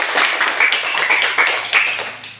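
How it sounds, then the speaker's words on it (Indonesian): A classroom of students claps together in a close, fairly loud burst with slightly uneven rhythm, lasting a couple of seconds. "Mari tepuk tangan."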